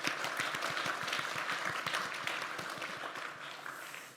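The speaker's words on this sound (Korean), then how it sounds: "우리 큰 박수로 우리 하나님께 영광의 박수." A church congregation claps together on Thanksgiving Sunday, a fairly soft, even patter of many hands that thins out toward the end.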